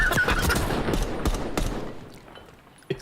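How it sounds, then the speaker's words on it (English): Rapid automatic gunfire in a Call of Duty match, a dense burst of closely spaced shots that thins out and fades, ending with a lone sharp report. "he's over here just shooting at walls, gunfire getting rung out"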